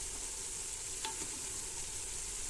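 Mutton biryani masala with chili powder, turmeric and garam masala sautéed in a pan: a soft, even sizzle with a faint scrape of stirring, quiet and continuous without voices.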